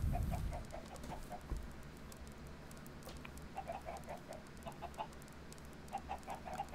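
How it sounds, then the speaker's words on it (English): Several chickens in Minecraft give soft, quiet clucks in scattered short bursts, with small patter and low background hum and no talking. "I have 9 chickens."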